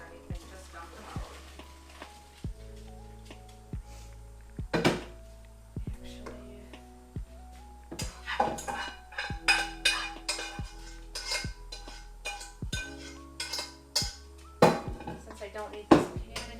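Cooked noodles for zesty sriracha noodles are tipped from a pan into a colander in the kitchen sink, giving a run of metallic clanks, knocks and clattering with a rushing wash of noise in the second half.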